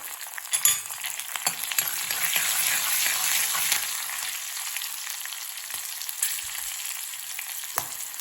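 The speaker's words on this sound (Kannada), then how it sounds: "ಸ್ವಲ್ಪ ಅರಿಶಿಣವನ್ನು ಸೇರಿಸ್ಕೊಂಡು ಒಗ್ಗರಣೆಯನ್ನು ಮಾಡ್ಕೊಳ್ತಾ ಇದ್ದೇನೆ" Tempering of turmeric and green chilli sizzling in hot oil for horse gram rasam, a steady bright crackle with occasional sharper pops and stirring scrapes, continuous and close, with no talking.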